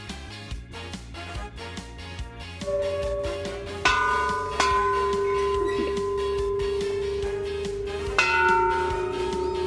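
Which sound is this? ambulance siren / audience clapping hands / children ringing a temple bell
children ringing a temple bell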